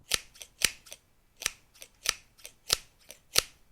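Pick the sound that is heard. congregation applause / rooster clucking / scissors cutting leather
scissors cutting leather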